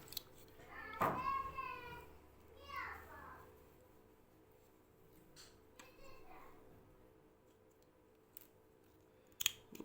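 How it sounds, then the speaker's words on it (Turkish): Scissors snip excess yarn from a hand-knitted two-needle glove, giving a couple of sharp, close cuts, with a voice and other speech heard around them. "Fazla olan ipleri de kestim."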